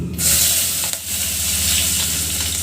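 Whole spices and onion hit hot oil in a pan for Maharashtrian masala rice, setting off a loud, steady, close sizzle with one brief stirring scrape partway through.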